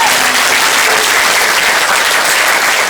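A crowd of students applauds loudly at a school event, a dense continuous wash of clapping with no pauses.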